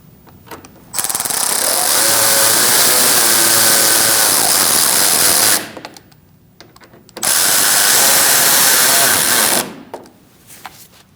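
A power tool drives the cooling fan bolts on a 2016-2019 Chevrolet Cruze 1.4L in two loud, sustained whirring bursts, the first about four seconds long and the second shorter, separated by a quiet gap.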